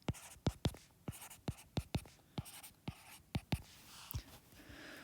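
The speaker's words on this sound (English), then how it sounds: "I'm going to write those out here." A pen writes out a formula during a pre-calculus lesson, giving a quick, close series of sharp scratchy strokes with short pauses between them, heard alone in a quiet room.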